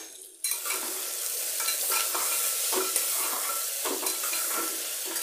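A spoon scrapes and stirs turmeric, coriander and chili powder into eggplant frying in a pan, with a steady sizzle under repeated stirring scrapes close up.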